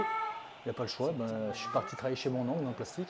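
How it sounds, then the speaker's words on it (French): A cat meows close by several times in rising and falling cries, while someone speaks French over it. "C'est le chat."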